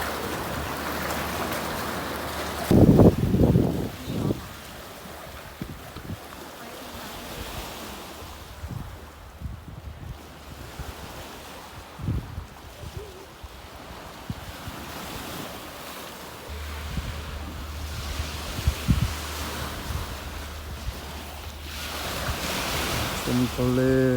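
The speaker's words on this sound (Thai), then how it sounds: "เป็นทะเลแสนงาม" Sea waves washing and wind buffeting the microphone at Koh Kham marine park off Sattahip, Chonburi, a steady surf rush with a few louder gusts and bumps, close and continuous.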